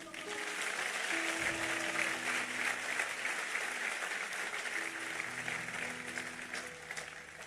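A church congregation claps in sustained, even applause from start to finish, with some faint voices and a few tonal sounds drifting underneath.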